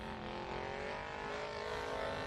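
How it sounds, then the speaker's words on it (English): Kaminsky off-road race car at an off-road racing championship, its engine giving a continuous, fairly distant and muted roar with a steady, buzzy tone throughout. "have a listen to that Kaminsky car. It is roaring."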